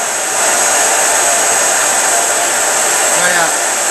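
An Electrolux UltraOne Mini bagless vacuum cleaner running at power level 5 gives a steady, loud, unbroken whoosh of motor and airflow that holds constant for the whole stretch.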